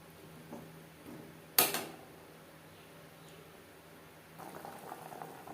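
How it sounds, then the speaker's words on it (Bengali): A jackfruit and prawn curry with tomato simmers in a pan on a gas stove, a soft steady bubbling close by, broken by a sharp metallic clink near the start and some louder sizzling toward the end. "বেশ ভালো করে ফুটতে শুরু করে দিয়েছে।"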